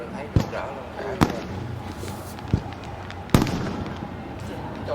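Fireworks bursting over Saigon at an April 30 celebration, with four sharp booms spaced a second or so apart, some loud and some more distant, over a crowd murmur and people chatting.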